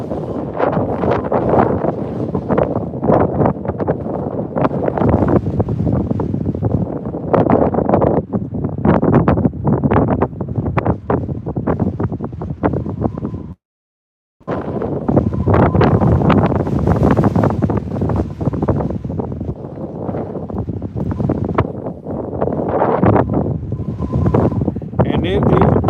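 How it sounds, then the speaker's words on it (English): Strong wind roars and buffets the microphone almost continuously while trout fishing, with a brief silent gap midway; a voice speaks faintly under the gusts. "And it is windy."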